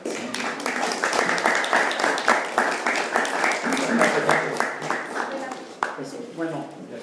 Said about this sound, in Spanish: ahora regálenme un fuerte aplauso para el doctor